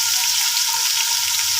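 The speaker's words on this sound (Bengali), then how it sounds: "এভাবে 2-3 ব্যাচে মাংসগুলো সব ভেজে তুলে নেব" Pieces of chicken meat fry in a nonstick pot, one batch of several, giving a steady, loud, close sizzle without pause or voices.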